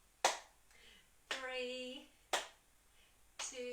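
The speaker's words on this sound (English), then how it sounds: "Tap our thighs and clap to the side. Tap and clap, tap and clap." Thighs are tapped and hands clapped out to the side during a seated exercise class, each sharp clap landing alone in an uneven rhythm, with a voice calling out counts in between.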